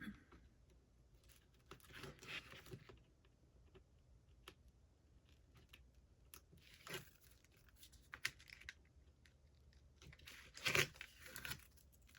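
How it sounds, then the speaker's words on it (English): Tape is peeled up from the inside cover of a handmade craft book in several short, faint tearing bursts, with a sharper rip near the end in a quiet room. "Just pull the tape."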